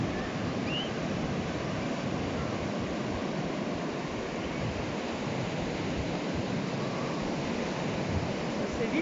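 Steady, rushing surf noise from ocean waves fills the whole stretch, broad and constant, with wind-like hiss and no clear voices.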